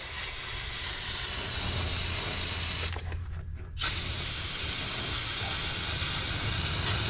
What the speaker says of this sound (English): Lots of brake clean.